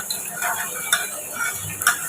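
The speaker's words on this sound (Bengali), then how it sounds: "চলো ওটা ফোড়নটা ভাজা হয়ে যাক" Panch phoron whole spices fry in hot oil in a pan for a cabbage dish, giving a steady soft sizzle broken by a few brief crackles and spoon-stirring scrapes, close and alone.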